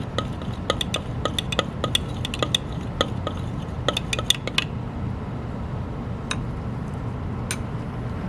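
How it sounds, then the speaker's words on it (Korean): A glass rod stirs solution C in a glass beaker during a school acid–base neutralization experiment, making bright repeated clinks and ticks at an uneven pace over a faint room hum. "깨끗하게 씻어서 말렸던 유리막대로 용액 C를 저어줍니다"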